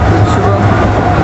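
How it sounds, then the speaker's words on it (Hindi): Riding inside a Mumbai local train, a loud continuous low rumble and rattle of the moving carriage fills the brief moment, with voices faintly mixed in. "Right now guys we are in local train."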